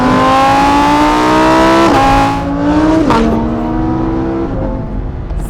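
A 2021 Lamborghini Huracán EVO engine revs loudly and close, its pitch climbing in stages with gear-change drops between pulls, a raw sustained roar with no talk over it.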